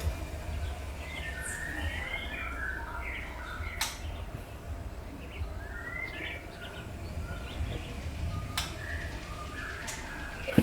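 Several magpie-robins (murai) sing in short, scattered chirping phrases at a moderate distance over a low steady background hum, with a couple of sharp clicks breaking in.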